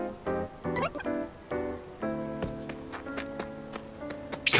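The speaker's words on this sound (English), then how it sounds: "I hear kittens." Kittens meow repeatedly in a video game, a string of short high cries, some overlapping, with game sounds in the background.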